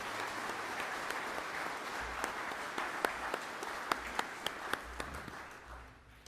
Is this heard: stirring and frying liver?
no